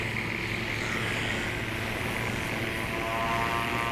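A STOL propeller aircraft takes off at Jennings, Louisiana, its engine a loud, steady droning buzz that holds constant and rises slightly near the end, near and unbroken with no voices.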